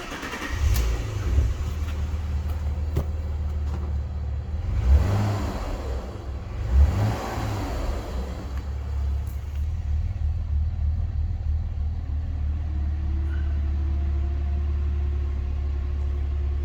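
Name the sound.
Alfa Romeo 156 V6 engine starting and idling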